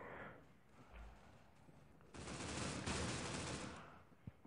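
Gunfire in the mobile shooter Critical Ops: a quiet opening, then a loud, dense burst of rapid shots lasting over a second, ending in a final sharp crack, with no talking.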